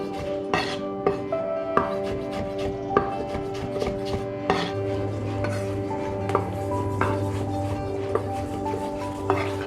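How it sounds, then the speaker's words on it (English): A knife roughly chops mango flesh on a board, giving sharp, irregular thuds and clicks at varied intervals over a low steady hum, close and clear with no talk. "So just roughly chop it."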